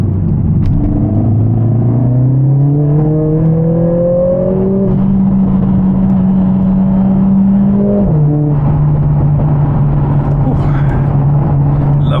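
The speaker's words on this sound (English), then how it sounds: "Aggressive gear changes." Onboard, a Mercedes CLA45s AMG engine pulls hard, its loud, close drone climbing steadily in pitch and then dropping sharply at an aggressive gear change before settling into a steady roar.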